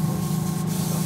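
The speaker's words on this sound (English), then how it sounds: "this gun will spray just like when we took it out of the box" Airbrush gun spraying cleaner through its nozzle, a continuous close hiss with a steady low hum underneath, even and unbroken throughout.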